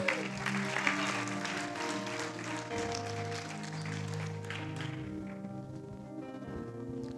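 A church congregation applauds to acclaim the Lord, steady clapping mixed with voices and faint background music, fairly quiet and continuous, thinning toward the end.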